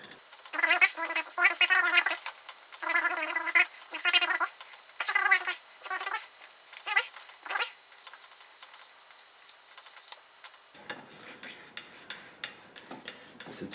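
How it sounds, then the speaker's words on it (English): Styrene plastic sheet being cut, sped up so it turns into thin, high squeaks and scratchy rasping near the end, after a long stretch of rapid, high-pitched sped-up talking. "if I will speed this up afterwards you will hear a really funny high squeaking noise"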